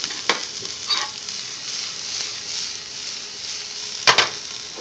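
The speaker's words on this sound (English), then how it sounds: "Olive oil, the shallots go in, the garlic goes in." Shallots and garlic hit hot olive oil and sizzle steadily, with a few sharp clacks of a spoon or pan near the start and again toward the end.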